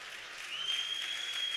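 An audience at a comedy show at the 2017 Conil fair applauds with steady, dense clapping at moderate loudness, joined by a thin whistle-like tone partway through.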